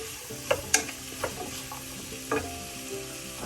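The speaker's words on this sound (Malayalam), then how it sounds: "ഇഞ്ചി വെളുത്തുള്ളി ചതച്ചത്, അതൊന്ന് മൂപ്പിച്ചിട്ട് എല്ലാം കൂടെ ചേർത്ത് അത് മൂപ്പിച്ചെടുക്കാം" Crushed ginger and garlic frying in oil for quail egg masala, a soft steady sizzle with a few sharp stirring clinks and scrapes against the pan near the start and middle.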